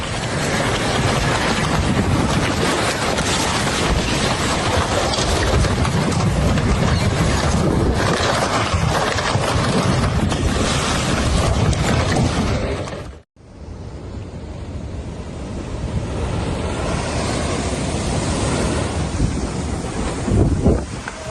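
Nighttime floodwater and waves surge in Scotland in a loud, unbroken roar with wind buffeting the microphone. The sound drops out for a moment partway through, then the churning resumes at nearly the same level.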